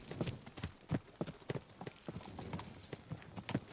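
Steady clip-clop of a horse walking in Kingdom Come: Deliverance 2: many sharp, close hoof strikes in a continuous even rhythm, fairly prominent over a quiet ambient bed.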